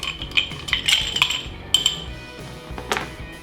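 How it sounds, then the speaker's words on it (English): A spoon stirs whiskey cocktail base ingredients in a glass, sending out a quick, irregular run of close, bright clinks and taps against the glass. "I'm gonna give this a little bit of a stir, just while I've got the base ingredients in there"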